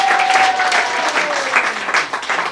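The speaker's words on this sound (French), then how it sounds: "On l'applaudit très très fort." A crowd at an ADO 2015 event applauds loudly and steadily, dense clapping filling the whole stretch with a faint whistle-like tone sliding through it.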